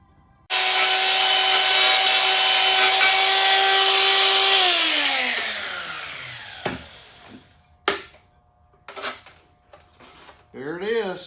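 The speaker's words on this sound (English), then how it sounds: "I'm sure I'll do just a little bit of hand filing on that" A power tool cuts into a dash panel for a vintage 1988 NASCAR Winston Cup race car, whining steadily for about four seconds before winding down, followed by several short, loud bursts of cutting and scraping up close.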